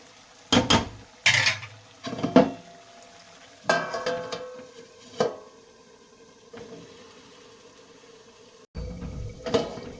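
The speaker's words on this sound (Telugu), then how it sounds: "ఇప్పుడు మూత అయితే పెట్టుకుందాం." Metal lid set onto a cooking pot while goat tripe curry with tomatoes cooks, giving several sharp clanks and knocks spread through the stretch, with quieter gaps of kitchen background between.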